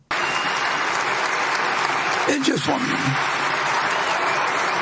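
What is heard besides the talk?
audience applauding the chairman at Berkshire meeting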